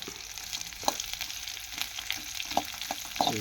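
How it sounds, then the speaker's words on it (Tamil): Shallots sauté in oil with a close, steady sizzle, broken by a few light scrapes and taps of a stirring spoon. "சின்ன வெங்காயம் நல்லா வதங்குற வரைக்கும் அப்படியே இதிலே விட்டுற வேண்டியதான்"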